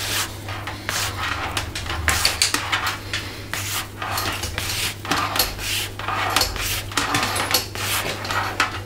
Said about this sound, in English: Just gonna squeeze it real hard so we collect all of the last shavings.